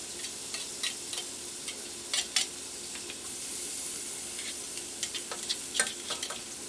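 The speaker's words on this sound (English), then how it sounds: "And I'll keep stirring so we don't burn." Garlic sizzles and fries in a pan for Spanish couscous while a utensil stirs it. Irregular scraping and clicking strokes ride over a continuous close hiss.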